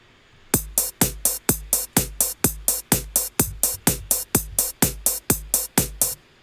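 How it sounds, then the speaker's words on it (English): A simple programmed drum beat: evenly spaced, punchy hits with deep kicks and bright snaps repeating in a steady, mechanical rhythm, alone and fairly loud. "So this is like the most basic beat that you can put together"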